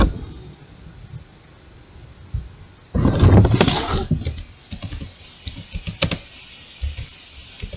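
Keys clatter on a computer keyboard as a JavaScript script for Node.js is typed, a dense burst of clicks up close, then scattered individual keystrokes at a steadier pace.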